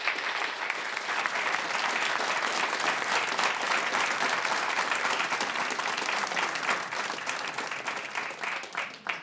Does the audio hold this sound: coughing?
no